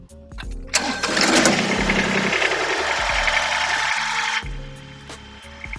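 A New Holland Workmaster 25S compact tractor's diesel engine turns over and fires, settling into a loud, rough, knocking idle with a buzzing hum, then the pitch drops as it changes speed near the end.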